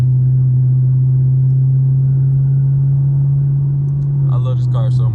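A Chevrolet Camaro SS engine drones at a steady low hum as it pulls onto the highway, the tone shifting slightly near the end as someone talks briefly.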